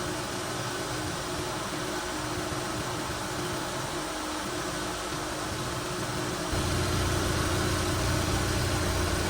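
A fully warmed-up Chevy Equinox engine idles at a steady hum with a faint hiss, its low rumble growing slightly fuller near the end.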